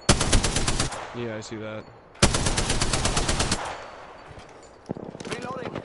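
Rapid bursts of automatic gunfire in the video game Apex Legends, loud and close, come in two long strings with a short gap between them. A player speaks briefly between the bursts.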